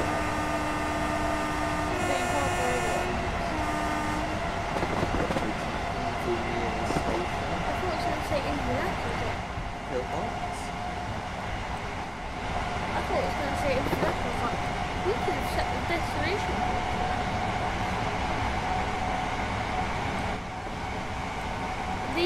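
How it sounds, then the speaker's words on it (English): An Azuma IET train rumbles and rattles along continuously, with clanking and squealing metal, while people talk over the noise. "this is a train to the"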